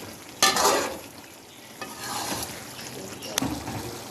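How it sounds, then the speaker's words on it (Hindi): Finely chopped green chillies frying in karahi masala for Peshawari charsi chicken karahi, a low sizzle with a few distinct scrapes and stirs of the spoon in the wok, close and moderately loud. "अब अच्छी तरह हम इसको मसाले में भूनेंगे"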